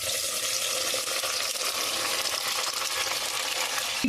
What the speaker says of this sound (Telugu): ఇప్పుడు కట్ చేసి పెట్టుకొని కొలుచుకున్న నిమ్మకాయ ముక్కల్ని వేసుకోవాలి